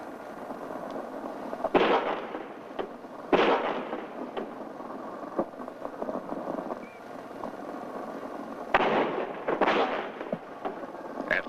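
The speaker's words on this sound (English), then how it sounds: "At least 4 shots were fired" Gunshots in a recording from a presidential assassination, heard as several sharp, loud reports spaced seconds apart over steady background noise.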